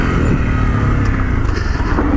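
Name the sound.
dirt bike engine while riding a trail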